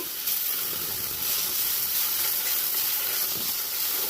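Spinach frying in oil in a pan for vegetable pulao, a soft, even sizzle and hiss with faint stirring scrapes throughout, fairly quiet and close, with no voices.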